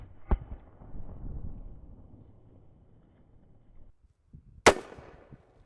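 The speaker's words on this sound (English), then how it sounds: "that is a soda can launcher, both using blanks to propel the object" A soda can launcher fires a blank, sending a can of Mountain Dew outdoors: a faint pop early on, a quiet breezy stretch, then one loud, sharp, close bang that rings off briefly.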